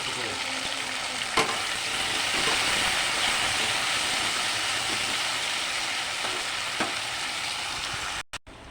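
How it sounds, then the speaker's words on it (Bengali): Taro stolons fry in hot oil with a loud, dense, continuous crackle close by, broken by a few clinks from stirring before the sound cuts off abruptly at the end. "এই তেলে আমি ছড়াগুলি ভেজে নুন দিয়ে দিলাম"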